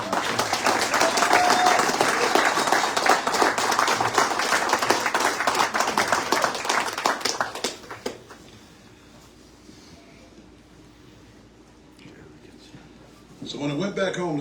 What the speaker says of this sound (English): How about another round of applause for these fine